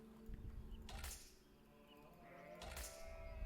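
Sheep bleating in the medieval strategy game Age of Empires 4, two short faint bleats spaced apart against quiet game ambience and low background tones.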